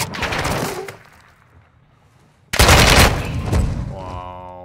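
Loud bursts of gunfire from the video game Modern Warfare 2, a heavy volley of rapid shots that fades to near quiet, then a second sharp, dense burst with a ringing tail.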